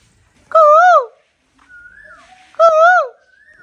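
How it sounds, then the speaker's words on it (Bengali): Two loud, close, tonal bird calls rise and fall about two seconds apart, with a fainter whistled call between them, from a koel outdoors. "কোকিলের সাথে দুষ্টামি করলে কোকিল কিন্তু আরো বেশি ডাকে"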